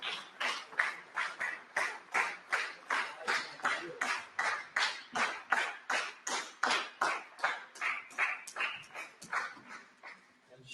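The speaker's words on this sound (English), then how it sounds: "I think we have to give a big round of applause" Large audience at a formal valedictory session giving a sustained round of applause, dense rhythmic clapping that swells and holds steady for about ten seconds, then tapers off at the end.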